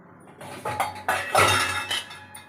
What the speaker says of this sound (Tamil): இப்போ நம்ம குக்கரை மூடிட்டு